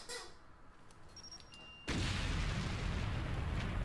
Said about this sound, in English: This is gonna be a big explosion.